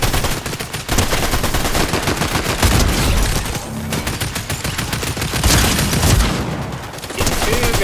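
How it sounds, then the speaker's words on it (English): Dense, continuous gunfire from a Fortnite match, rapid overlapping shots and bursts loud throughout, with brief dips but no real pauses. "More shooting, so I go towards it."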